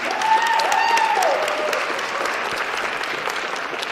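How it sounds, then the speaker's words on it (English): A Calgary audience claps steadily in a dense round of applause welcoming Lance Miller at an evening event, a brief whistle-like tone rising early, the clapping continuing evenly throughout. "let's give Lance Miller a big round of applause and welcome him to Calgary"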